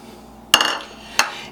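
Peanut butter cupcake icing with mini chocolate chips being mixed in a bowl, two sharp utensil knocks against the bowl rim followed by a short rattle.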